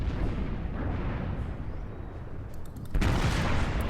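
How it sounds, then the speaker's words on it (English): The battleship North Carolina's guns fire in a naval combat video game, a deep, rumbling boom rolling under steady engine noise, followed by a sharper burst of blasts near the end. "I'm only going to fire 2 guns there"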